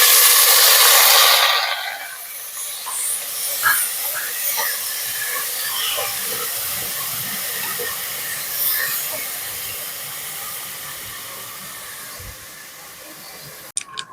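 Onions and green chilies dropped into hot oil with cinnamon, cardamom and bay leaf for tomato rice, giving a loud initial hiss that settles into a steady sizzle with small crackles and pops.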